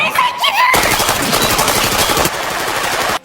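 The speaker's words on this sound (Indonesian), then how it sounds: "tapi si anak buahnya akhirnya ditembak mati" A rapid burst of automatic gunfire rattles loudly for about a second and a half in a Squid Game scene where a man is shot dead, followed by a second shorter burst, with brief voices just before.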